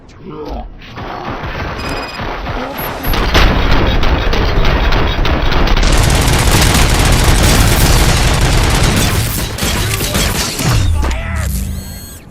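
Sustained heavy gunfire erupts inside an OCP station in RoboCop: Rogue City, a dense roaring barrage of shots and booms that runs loud for several seconds before easing, with voices mixed in.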